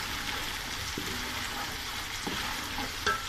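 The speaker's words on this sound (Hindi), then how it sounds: "अब हम इसमें सब्ज़ मिर्चों का पेस्ट 2 चम्मच वो ऐड करेंगे। इसको अच्छे से मिक्स कर लेंगे।" Green chili paste frying with garlic in a pan, a steady close sizzle broken by a few scraping stirs of the spoon.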